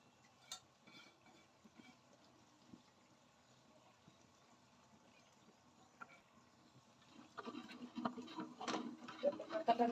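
Coriander leaves are stirred gently into a fish and tomato curry in a pan. Quiet occasional scrapes and clinks grow into busier, louder stirring toward the end.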